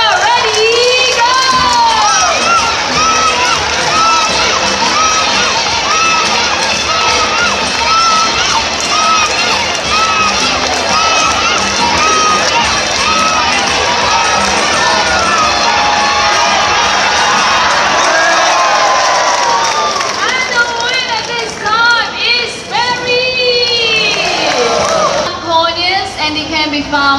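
Children in the audience at a bird show in a Singapore bird park cheer and shout loudly and continuously, a dense wall of young voices, with an announcer speaking near the end as the cheering breaks up.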